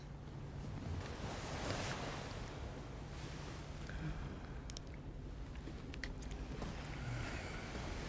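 Ocean waves washing steadily around the ship Titanic at sea, a constant broad rush with wind mixed in, moderate and even throughout, no voices.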